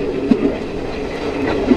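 The Paharia Express rolls along the rails with a steady rumble and a few rhythmic wheel clacks over rail joints, close and fairly loud, with no voices.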